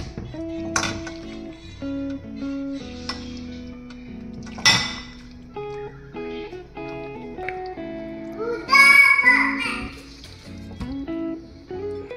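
Spinach pasta is served into a bowl with a run of clinks and taps of cutlery against dishes, sharp bright strikes scattered through a quiet kitchen, with some soft voice in the background.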